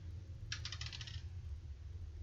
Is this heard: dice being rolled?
yes